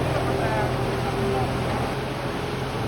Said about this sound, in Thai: ใช้รถไถใหญ่ไปนะครับ